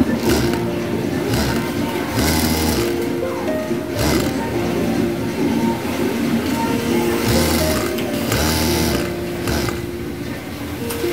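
A Yamato cylinder bed sewing machine stitching chainsaw material, with bursts of rapid mechanical whirring and rattling stitches separated by short pauses, loud and close.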